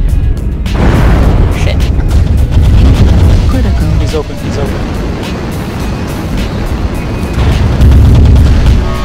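A detonated target exploding in a video game, a loud deep boom opening the stretch and rumbling on with further blasts and crackling debris, while voices talk over it.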